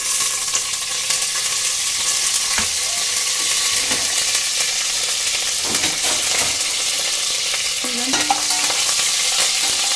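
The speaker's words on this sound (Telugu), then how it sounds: "కరివేపాకు ఇలా వేగేకండి" Curry leaves sizzling and frying in hot oil in a pan for a beans and tomato curry, a steady crackling hiss throughout with occasional stirring clinks and scrapes.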